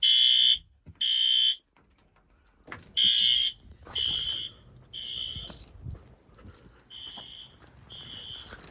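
A loud electronic fire alarm blares in repeated harsh bursts with short gaps, close and piercing, continuing throughout.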